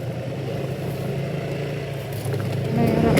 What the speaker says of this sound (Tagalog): Nahihirapan mo pa ang motor. Matibay yan, Honda yan eh.